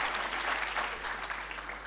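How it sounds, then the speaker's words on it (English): A summit audience applauds steadily, a dense wash of many hands clapping at moderate distance with no voices on top. "So can we please give Linda another round of applause, please?"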